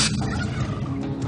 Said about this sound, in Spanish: Los pavos vagan hambrientos por sus corrales.